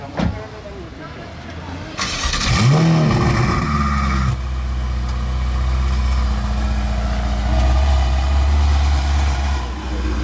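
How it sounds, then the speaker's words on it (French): A hypercar engine fires up with a sharp bang, then settles into a loud, steady rumbling idle with a low throb that continues to the end, outdoors in Monaco. "vous avez entendu la déflagration en démarrage"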